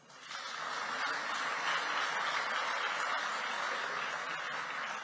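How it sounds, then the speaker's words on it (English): Sustained audience applause swells quickly at an election campaign launch event, then holds as a dense, steady roar of many hands clapping, with no speech over it. "A round of applause."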